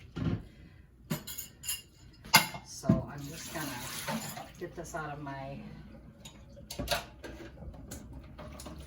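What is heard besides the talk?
filtered water filling jars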